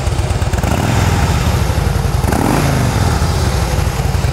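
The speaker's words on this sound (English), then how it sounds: "I'm thinking that's an aftermarket muffler on there. It's not very loud, but it does have a nice little low" A Harley-Davidson Softail Deluxe with a balanced motor and an aftermarket muffler idles and revs close by, a deep, even low-pitched rumble with a brief throttle blip midway, not very loud, heard alone.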